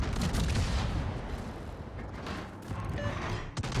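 Warship secondary guns firing in World of Warships, a dense barrage of rapid booming shots and blasts layered over one another, loud and continuous for a few seconds, with no talking.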